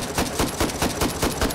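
An AK-47 rifle fires in the VR game Hot Dogs, Horseshoes & Hand Grenades, in a steady rapid stream of about eight sharp, loud shots, evenly spaced and close.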